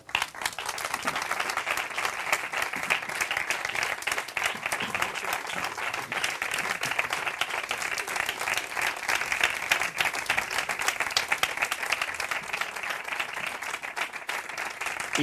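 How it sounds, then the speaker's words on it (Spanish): Sustained, dense audience applause at a flamenco show, many hands clapping steadily and fairly loud for about fifteen seconds without a break. "yo pido un aplauso muy fuerte para Salvador Gutiérrez y para Manuel de la"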